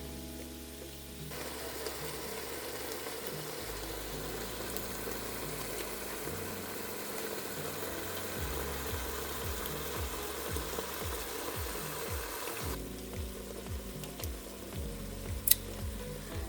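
Chicken pot pie soup simmering in a pot on the stove gives a steady low bubbling and faint sizzle, with a continuous hum beneath it. The sound stays even and unbroken for a long stretch with no voices.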